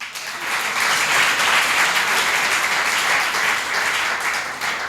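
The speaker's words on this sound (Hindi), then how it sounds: "बहुत बढ़िया, अब बजाओ ताली।" Audience applause fills a hall during a religious discourse, a steady, loud wash of many hands clapping that swells quickly and holds for several seconds before easing slightly.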